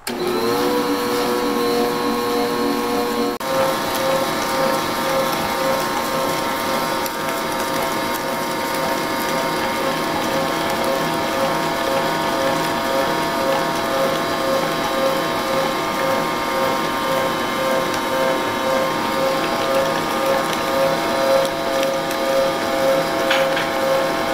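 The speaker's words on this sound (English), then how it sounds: "We're going to blend this until it's nice and fluffy." An electric mixer whips peanut butter and jelly cake batter until fluffy, a loud steady motor whine with a grinding, rattling edge that runs unbroken throughout, its pitch shifting slightly early on.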